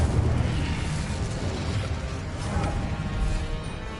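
Incendio fire spell cast in the Hogwarts Legacy video game, a continuous roaring, crackling burst of flame that stays dense and loud for several seconds with no talking.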